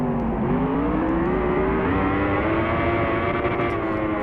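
A 2015 Yamaha R1 motorcycle engine in the racing game Ride revs steadily and loudly, its continuous droning pitch rising slightly and holding across the whole stretch with no pauses.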